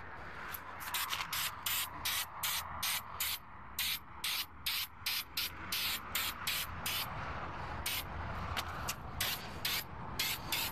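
Spray paint can hissing onto truck wheels in a series of short, repeated bursts, each lasting about half a second with brief gaps, fairly close and steady, with faint background noise and no talk.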